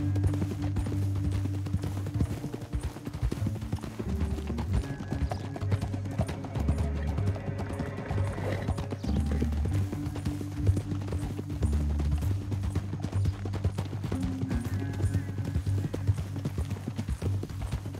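Horse hooves clip-clopping steadily in the video game Red Dead Redemption 2, several horses trotting together with an even rhythmic beat and soft musical score beneath, continuous throughout at moderate loudness.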